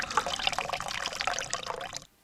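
Pond water pouring and filling the cup of a Grail Ultra Press water filter: a steady, close splashing trickle that runs continuously for about two seconds, then stops abruptly.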